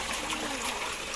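Creek water flows in a steady, close rushing babble, with broad, continuous bubbling and no pauses.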